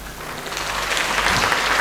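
Guests at a wedding break into applause, a continuous crowd clapping that swells gradually from moderate to fuller and louder, the dense patter of many hands filling the room without talk over it.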